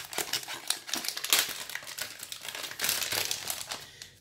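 A phone case's plastic packaging is pulled open close up, giving continuous crinkling and crackling with bursts of sharper rustles and no voices.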